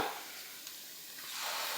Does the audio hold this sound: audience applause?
no